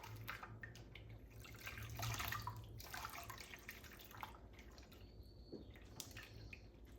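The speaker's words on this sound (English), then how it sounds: "We're gonna swish her around a couple more times to remove some of the soap." Soft sloshing and dripping as a human hair topper is swished through soapy rinse water in a basin, quiet and close, with small trickles and splashes.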